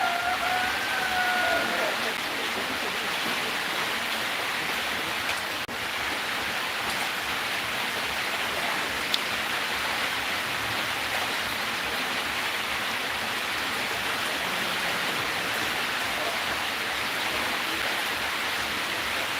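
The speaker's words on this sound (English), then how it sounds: "The rain is out there, just raining." Rain falls outside in a steady, dense wash of noise that holds constant throughout, with a faint voice briefly at the start.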